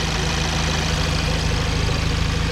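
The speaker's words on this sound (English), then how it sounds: "she's ticking over again now" A Cupra car engine idles after about fifty dyno pulls, a close, steady low rumble with a fine regular pulse and a faint ticking texture, smooth and even throughout, with no talk.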